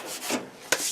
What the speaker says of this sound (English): the black paint is just like guide coat so you can like see where you're sanding